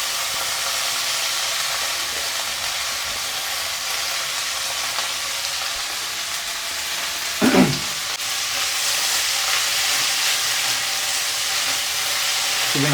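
Washed fenugreek leaves sizzle and hiss steadily in a hot pan, a brief louder stir or crackle rising midway before the frying noise settles back, with no talking.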